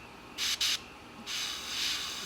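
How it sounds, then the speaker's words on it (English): An airbrush sprays paint onto a 1/48 Tamiya F-4B Phantom scale model: two short hissing bursts, then a longer steady hiss, quiet and close with no talk. "I'm spraying kind of wide with the 267 because I just don't care about overspray"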